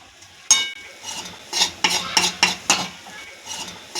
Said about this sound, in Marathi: आता आपण हे सुद्धा मिक्स करून घेत आहोत